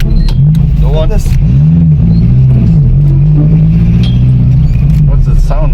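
A Formula 4 race car engine revving loudly and close, with a deep droning idle that swells into several rising and falling blips while people talk excitedly over it.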